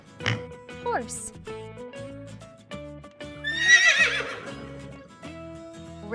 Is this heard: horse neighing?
yes